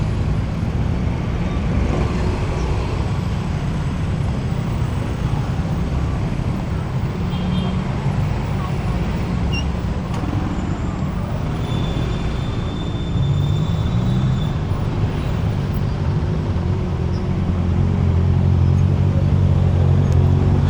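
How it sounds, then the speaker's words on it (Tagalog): Rush hour bumper-to-bumper road traffic crawls along at a steady, loud level, a dense rumble of engines with no clear individual passes and a slight swell near the end. "Bumper to bumper traffic."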